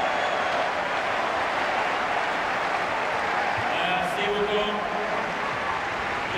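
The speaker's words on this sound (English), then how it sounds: "Just for good measure, we've got a Mexican wave." Tennis crowd at the 2008 Paris Masters final between Tsonga and Nalbandian doing a Mexican wave, a continuous loud roar of crowd noise and applause filling the arena.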